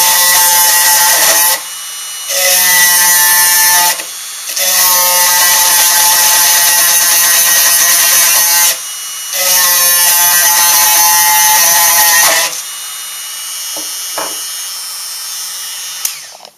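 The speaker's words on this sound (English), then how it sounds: "As soon as you cut through the end, that race will pop out of there." A power tool grinds through a strong steel bearing race stuck in a motor, running in several loud, steady bursts of about two to four seconds separated by short pauses, then stopping, with faint clicks and handling noise afterward.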